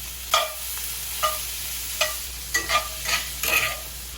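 Sausage fries in a hot skillet with a steady sizzle, while a utensil stirs and scrapes it in several sharp, separate strokes, close and clear with no talking.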